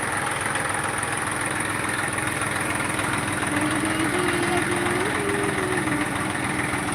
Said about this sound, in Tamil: டிராக்டர் போகுது வாசல்